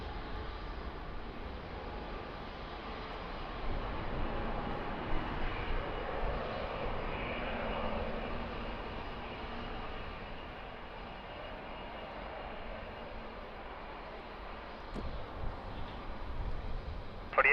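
An airliner lands on runway 02 at Lisbon Airport, its engines a broad steady roar that swells and shifts over many seconds, with a thud and rising rumble near the end.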